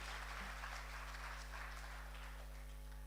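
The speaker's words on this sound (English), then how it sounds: "So a big round of applause for Kshitij Agrawal." Audience applause at a silver jubilee celebration, a steady dense wash of clapping throughout, fairly faint and even, with no distinct voices over it.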